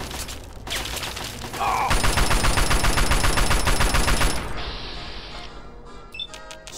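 Sustained burst of rapid video game gunfire in Fallout 3, loud and dense for a few seconds, followed by quieter scattered shots and clicks.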